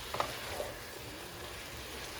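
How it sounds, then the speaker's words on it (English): Food frying together in a pan on a home stove, a steady close sizzle with a couple of brief stirring clicks near the start, no voices. "frying up together."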